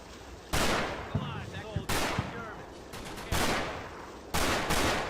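Gunfire in the World War II game Combat Mission: Battle for Normandy, with four heavy, sharp bursts and shots spaced a second or so apart, each ringing into a fading echo, loud and close.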